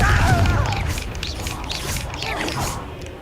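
In Hogwarts Legacy, the Confringo blasting curse lands with a loud booming impact followed by crackling, whooshing magical bursts that fade over a few seconds.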